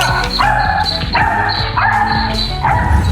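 A large, fierce dog barks loudly and repeatedly at a tiny kitten, each close bark followed by a whining yip, in an even, rhythmic series.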